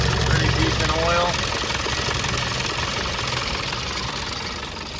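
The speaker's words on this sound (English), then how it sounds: "a little bit of a rattle coming out of the airbox" An ex-military 1991 Land Rover Defender 90 with a 200Tdi diesel engine idles nearby with a steady knocking clatter and a slight airbox rattle, while a voice talks over it.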